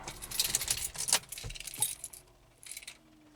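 Keys jangle and clink in several quick bursts close by, with a brief pause before a final softer rattle; faint rain or car background underneath.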